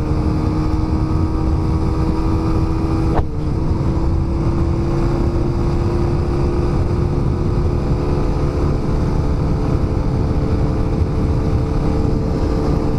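A Suzuki Raider 150 motorcycle with a carbureted engine holds a loud, steady high-revving drone up close, its pitch shifting slightly early on and then staying constant, with no speech.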